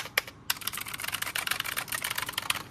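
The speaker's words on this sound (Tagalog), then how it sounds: "So ito yung ating ROG keyboard. Pakinggan yung tunog, oh." Typing on an ROG RGB Aurora keyboard, a quick run of crisp, close keystrokes in a steady clatter after a couple of isolated taps, loud and alone.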